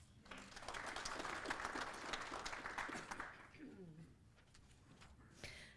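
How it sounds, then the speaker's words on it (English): An audience at a county budget meeting gives brief, fairly faint applause for a speaker, a few seconds of scattered clapping that fades out as a voice begins talking. "Round of applause for Susan"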